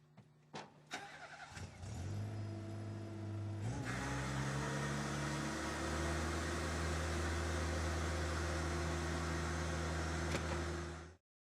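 A Tennant M20/M30 sweeper-scrubber clicks, then its engine cranks and starts, settling into a steady humming idle as the hopper lowers with a shift in tone, before shutting off.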